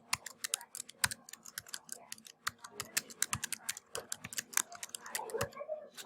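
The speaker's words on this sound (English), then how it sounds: "I'm going to type in the name of my park." Typing on a computer keyboard to enter a national park's name, with rapid, irregular clicks and sharp keystrokes close up and alone, running throughout.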